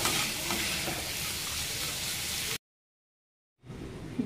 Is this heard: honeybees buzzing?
no